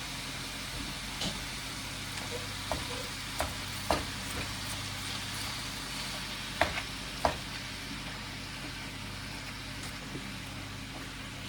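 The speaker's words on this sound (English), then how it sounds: "Get another spoon and mix it up a little bit" A spoon stirs a shepherd's pie mixture, with soft scraping and a few sharp clinks against the pot over a low steady sizzle and a faint background hum.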